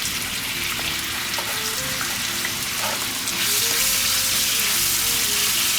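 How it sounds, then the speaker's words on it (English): Chicken sizzles steadily in hot oil in a pan, a dense crackling hiss that swells louder partway through, with soft background music underneath. "And just fry that up."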